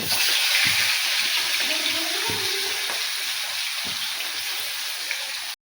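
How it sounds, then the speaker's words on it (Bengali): Eggplant frying in a wok gives a steady, fairly loud bubbling hiss that holds evenly throughout, with faint clatter underneath. "এবার বেগুনগুলো আমি ভেজে নিচ্ছি কড়াইয়ে।"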